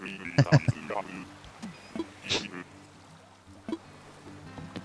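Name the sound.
person imitating a duck's quack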